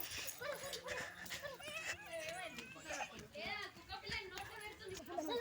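Puppies whimper and yip in short, high, wavering cries, close by and fairly faint, mixed in with children's voices talking and playing.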